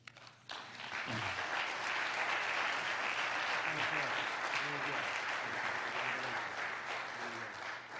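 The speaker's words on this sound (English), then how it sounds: "Give another hand for all our fathers, honorees tonight." An audience applauds honored fathers at a fatherhood tribute event. The clapping rises suddenly and holds steady and full for several seconds, with some voices mixed in under it.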